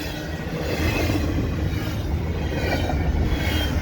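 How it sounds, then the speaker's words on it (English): A CP eastbound stack freight train passes Cedar Park EXO station in winter, a loud continuous rumble of wheels and cars with steady clatter throughout, close by and without voices. "Not sure what locomotive that is."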